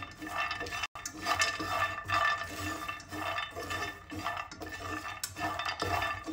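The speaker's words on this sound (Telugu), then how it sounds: "పల్లీలు కూడా రోస్ట్ చేసుకోవాలి. ఇది కూడా దోరగా వేయించుకోండి." Peanuts are lightly dry-roasted in a pan and stirred, producing a quiet, continuous scraping and rattling with small clinks, soft and close, with no talking.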